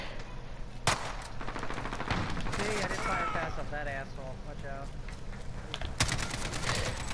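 Gunfire in Call of Duty: Modern Warfare, a few sharp shots standing out at moments amid a busy, loud game mix with voices talking throughout.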